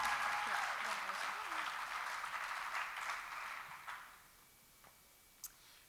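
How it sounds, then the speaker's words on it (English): Audience applause at a mental health awareness showcase, a crowd clapping loudly at first and then tapering off to a few scattered claps and near silence. "Give them a round of applause."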